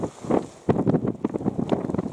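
Gusting wind buffets the microphone on a snowy Snowdon mountain trail, coming in loud irregular blasts after a brief lull.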